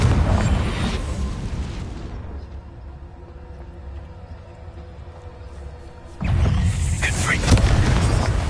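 A loud, close blast from the Confringo spell in Hogwarts Legacy booms inside a cave and falls away to a quiet stretch, then a second heavy burst of explosive noise rolls in and keeps going to the end.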